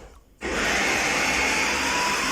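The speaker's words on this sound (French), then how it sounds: "je vais mixer dans la cuisine parce que j'ai pas de prise ici" An electric mixer blends crêpe batter in a kitchen, starting abruptly after a brief quiet moment and then running as a loud, steady whir that holds without a break to the end.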